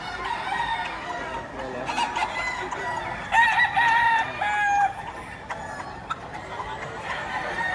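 Several roosters crow and hens cluck amid a busy crowd at a poultry market in Padre Garcia, Batangas, with overlapping calls rising above a steady murmur of people talking.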